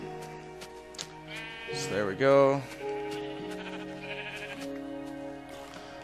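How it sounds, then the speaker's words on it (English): Minecraft sheep bleating several times near the middle, including a black sheep, with wavering calls over game background sounds while someone talks throughout. "I found us a sheep. 2 of them even a black one."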